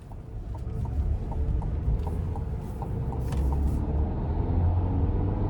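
A 2025 Chevrolet Traverse LT with a 2.5-liter turbo four-cylinder and eight-speed automatic driving on the road, a steady low engine and road rumble heard from inside the cabin, without talk.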